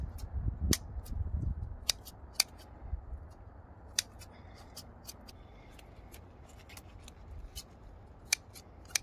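Kitchen scissors snipping homegrown chives and green onion stalks, a series of sharp, crisp cuts at irregular intervals over faint background rustle, close and clear with no talking.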